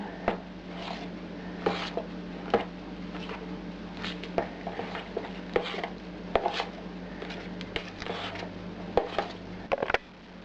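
A whipped cheese mixture with starch and bread mixed in a bowl by hand, giving repeated soft, close knocks and scrapes of a utensil at an uneven rhythm over a low steady background hum.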